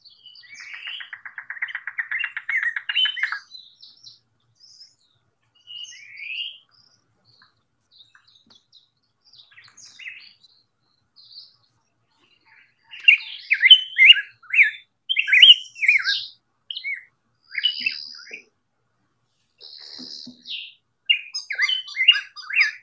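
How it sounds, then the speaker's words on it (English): A yellow-billed cuckoo, known as the rain crow, calling outdoors, with a run of rapid clucking notes followed by later bursts of sharp repeated chirps, fairly faint and distant with quiet gaps between phrases. "Sound right there is the cuckoo sound."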